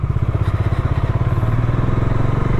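A motorcycle rides off at night, its engine chugging in a steady, fast pulse that stays loud and close throughout, with no talk over it.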